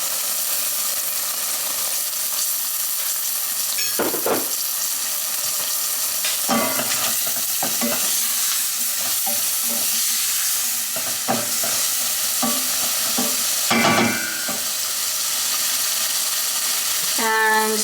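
Chopped celery frying in a pan with pancetta for a hearty vegetable soup, a steady close sizzle broken by repeated stirring scrapes and clatters, with a little speech now and then.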